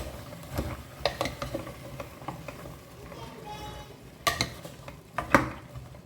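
A spoon stirs a pav bhaji vegetable mixture with added salt in a pan, giving intermittent soft scrapes and clinks against the metal with a faint sizzle beneath, fairly quiet and close.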